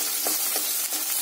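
Small onions sautéing in a pan for a rice and lentil kichadi, a steady close sizzle with a few soft stirring scrapes, no voices.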